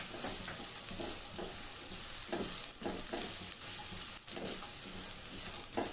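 Chopped onions fry in oil in a pan for curry Maggi noodles, a constant close sizzle with periodic stirring scrapes of a spoon, no voices present.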